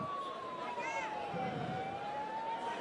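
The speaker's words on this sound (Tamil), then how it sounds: "ஆம்புலன்ஸ் கொஞ்சம் வழி விடுங்களேன்." An ambulance siren wails steadily through a dense street crowd gathered along a road for a political convoy, its gliding tone sounding somewhat distant beneath continuous crowd murmur and traffic noise.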